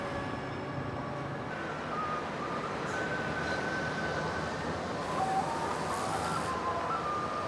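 Interior of a Qinghai-Tibet railway train from Xi'an to Xining: a steady, moderate rumble of running carriages with faint, drawn-out tonal whines on top.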